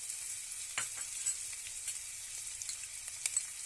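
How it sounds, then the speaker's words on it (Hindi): Dry daliya roasting in a pan at home, with a soft, continuous sizzle and occasional light scraping strokes of stirring, quiet and close with no talking. "इसको अच्छी तरह से रोस्ट कर लेंगे।"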